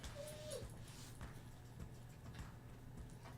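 A puppy whimpers once in a short high rising-then-falling whine near the start, over a steady low background hum and faint room noise.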